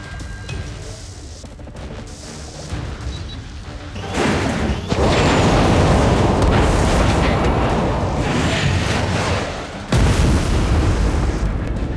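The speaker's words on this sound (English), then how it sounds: "Friendly nuke has been launched" Massive nuke detonation in Call of Duty: Mobile multiplayer, a huge sustained roaring blast that swells loud for several seconds, drops off, then hits again with another heavy rumble.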